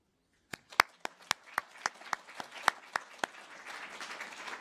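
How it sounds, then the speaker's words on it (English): An audience at a public science forum breaks into applause, starting with a few sharp, separate claps that quickly thicken into a steady patter of many hands, moderately close. "So please give yourselves a round of applause."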